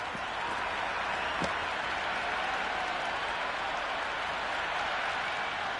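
Crowd applause in the Cricket 26 PS5 game during an India vs New Zealand one-day international, a steady, dense wash of clapping and cheering that holds evenly throughout.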